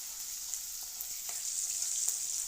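Curry leaves sizzle and crackle in hot oil in a pan, stirred with a few light utensil taps over a steady frying hiss, close and without voices.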